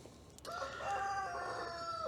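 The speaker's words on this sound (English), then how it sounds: "There's the rooster again." A rooster crows once, a clear, drawn-out call rising and falling over quiet outdoor background noise.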